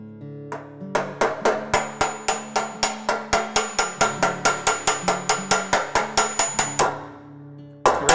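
A body hammer strikes a steel dolly held against a car fender to planish out the last of a dent, ringing in a quick, even run of about twenty sharp metallic taps, close and loud.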